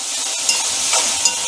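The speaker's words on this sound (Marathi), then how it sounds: "आणि तो असं फोडणीमध्येच भाजून घ्यायचा" Asafoetida roasts in hot oil as tempering, together with tomato and onion for a kohlrabi dish, a loud close steady sizzle with a few brief spoon scrapes.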